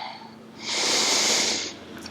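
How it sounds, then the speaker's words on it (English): A single long, deep exhale during yoga practice, a breathy rushing whoosh lasting about a second, close to the microphone, after a quieter inhale, with no voices. "3 rounds of breath."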